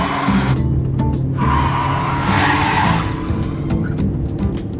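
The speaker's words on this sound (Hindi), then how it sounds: "इतनी तेज गाड़ी कौन चलाता है?" A car driven very fast roars close by, with squealing, skidding tires that rise and fall over a few seconds. The engine and tire noise stays loud and continuous throughout, with no speech.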